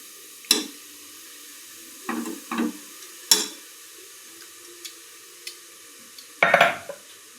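Carrot halwa with jaggery being stirred and sautéed in a pan: a handful of separate scraping stirs and light clinks spread across the clip, with a faint sizzle between them and quiet gaps.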